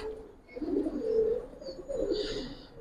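Giribaz and colouring pigeons of an old breed cooing in soft, repeated low coos that swell and fade, with faint higher chirps in the background and no talking.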